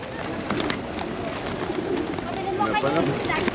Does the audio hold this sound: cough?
no